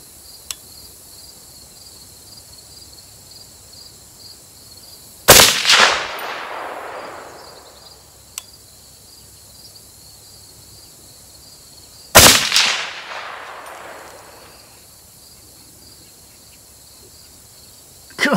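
Two loud, sharp rifle shots from a lightweight .308 AR10, spaced several seconds apart, each with a long decaying echo over a quiet outdoor background with faint insect buzz.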